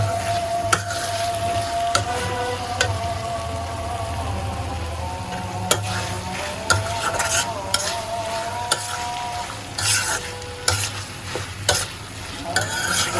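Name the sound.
stirring chicken vegetable roll filling with cornflour in a pan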